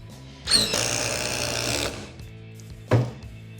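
A Dewalt DCF860 impact driver on speed 3 drives large screws, rattling in a rapid hammering burst for over a second, pausing, then firing one short final burst, close and loud.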